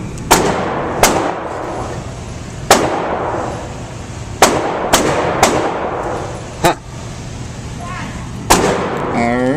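Sharp, loud pistol shots from a 92X ring out one at a time at irregular intervals against outdoor background noise, each crack close and echoing briefly.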